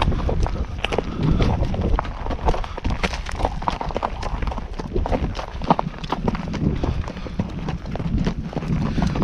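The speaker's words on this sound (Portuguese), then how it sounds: "esse cavalo é bem louco" Horse hooves clip-clop steadily and close throughout, a continuous busy rhythm of strikes with some wind buffeting the microphone.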